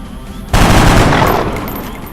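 Gunfire from the XCOM video game erupts suddenly as a loud, dense burst that holds steady for over a second, then tapers off slightly while still rumbling to the end.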